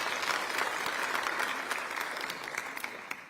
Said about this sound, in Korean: 축하의 박수 한번 보내주시기 바랍니다